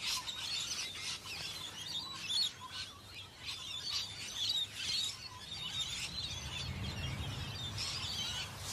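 Gaudy green-backed birds, leaf-like in shape, chirp and call repeatedly in steady high twittering that continues throughout, with soft background noise beneath.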